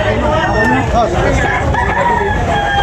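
A rooster crows loudly at a chicken market in Tabunok, Cebu, its drawn-out call rising over a busy murmur of people talking.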